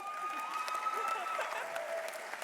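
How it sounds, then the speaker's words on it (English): At a charity award event, an audience claps steadily with cheering voices and a sustained whistle-like tone over the clapping, moderately loud and continuous throughout. "let's give a round of applause to Jaira."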